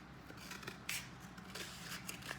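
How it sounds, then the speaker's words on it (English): Scissors cut a cardboard toilet paper tube in half, giving a few crisp snipping crunches with short rubbing sounds between them, close and clear with no talk. "I'm going to start by taking a toilet paper tube and cutting it in half"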